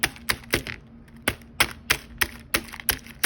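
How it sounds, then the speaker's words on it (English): Hard-boiled eggs being smashed with a spoon to make a sulfur bath for oxidizing silver jewelry: about a dozen sharp, close cracking knocks in an uneven rhythm, alone with no talk. "We're going to start just smashing."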